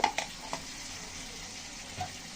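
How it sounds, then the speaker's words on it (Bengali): Spices such as chili powder and turmeric sautéing with egg and potato curry: a steady, soft sizzle with a few quick clicks and taps of a spoon against the pan near the start. "এখন সব কিছু দিয়ে আমি আস্তে আস্তে কষাতে থাকবো।"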